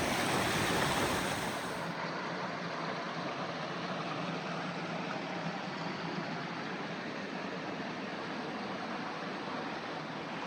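Steady, loud broadband rush of a waterfall pouring into a creek swim hole along North Matilija Creek in the Los Padres Mountains, continuous and close with no voices.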